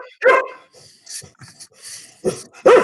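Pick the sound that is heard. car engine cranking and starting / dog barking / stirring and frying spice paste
dog barking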